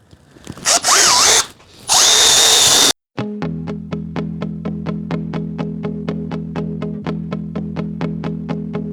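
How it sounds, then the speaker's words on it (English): A power drill pre-drilling holes in wood of a bowed cabinet door whirs in two bursts, then a rapid, even mechanical clatter runs steadily for several seconds, loud and close. "And now we pre-drill through there."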